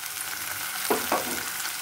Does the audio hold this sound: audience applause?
no